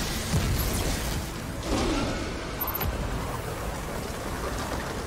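Lightning crackle and rolling thunder from a Destiny game fight, loud and continuous over steady rain-like ambient noise, with a couple of sharper strikes partway through.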